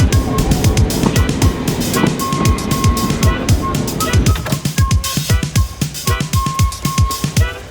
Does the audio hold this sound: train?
yes